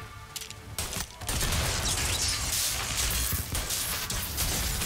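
Gunfire in Mafia: Definitive Edition, heard as loud, continuous volleys of shots and impacts filling the whole stretch, with dense crackling bursts and no talking.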